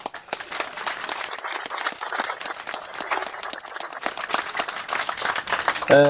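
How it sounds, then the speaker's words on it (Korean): Audience applause at an outdoor rally in Korea marking the Incheon Landing anniversary and opposing an end-of-war declaration, scattered clapping from the crowd rising and falling, with a brief tonal sound at the very end. "이 두 분한테 한번 큰 박수 한번 해주시고"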